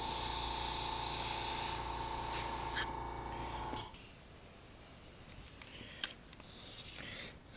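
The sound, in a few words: airbrush misting spray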